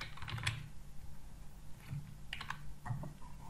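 Typing on a computer keyboard while writing HTML form code, with short quiet bursts of key clicks separated by pauses.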